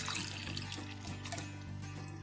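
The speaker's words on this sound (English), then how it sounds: "we're going to need to add some water on this one." Tap water pours steadily into a canning pot holding jars of spaghetti sauce, a constant rushing splash with a faint hum underneath, close and uninterrupted with no talk.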